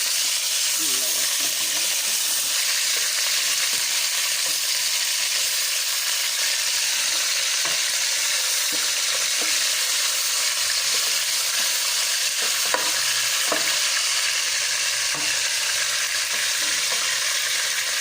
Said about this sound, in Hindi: ये देखिए, मैंने इसमें चिकन डाल दिया, इसको फ्राई करूँगी।